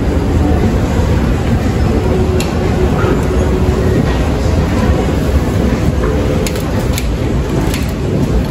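A metro train runs with a loud, steady rumble and roar that fills the whole space, with occasional faint squeaks and clatters on top and no clear voices.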